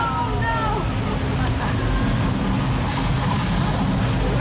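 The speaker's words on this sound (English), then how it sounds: "on the left it looks like a flash flood heading straight for the tram" Sprinkler rain pours down beside a Universal Studios tram ride as a simulated flash flood rushes past, a steady loud hiss of falling water with a low rumble of the moving tram and faint voices underneath.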